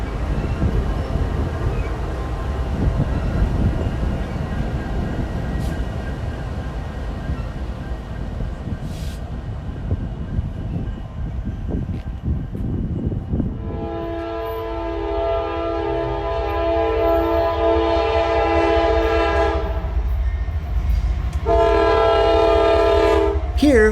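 A train rumbles past with a heavy low roar, then sounds its horn in two long, loud blasts toward the end, the second following a short gap.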